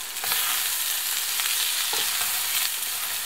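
Liver sizzles steadily in a hot frying pan with a little oil, broken by soft scraping clicks of stirring; constant close crackle with no talking.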